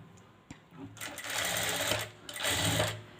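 A sewing machine runs in two bursts while stitching thread piping, its motor humming close and steady, with brief pauses and a few faint words between runs.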